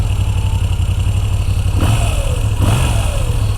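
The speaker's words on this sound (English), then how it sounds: "Just when you do go to rev this thing" A Moto Guzzi V9 Bobber motorcycle engine idles with a low steady rumble, then is blipped twice in quick succession, each rev rising and falling sharply, close by with no talking.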